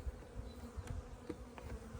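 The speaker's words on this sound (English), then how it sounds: "these are Italian bees" Italian honey bees buzz faintly around a nuc hive during frame installation, a quiet drone with a few brief louder passes of individual bees close by.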